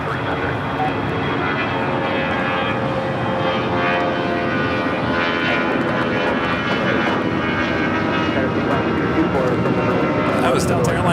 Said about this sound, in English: That was Delta Airlines Flight 1143 heading to Houston and an A319 taking off here on the south side at 25 right.